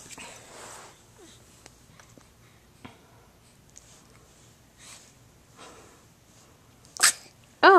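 A baby's sneeze bursts out near the end, sharp and close, after a stretch of soft breathing and faint rustling during tummy time.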